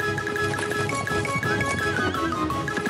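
A cartoon horse neighs and gallops, with a bright repeated whinny riding over quick, steady clip-clop hoofbeats, loud and continuous throughout.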